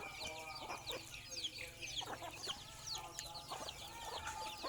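Thai game fowl cluck and chatter almost continuously, several birds overlapping at moderate distance, with sharp calls scattered over a low steady background hum and no speech.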